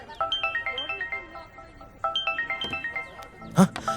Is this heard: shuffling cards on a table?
no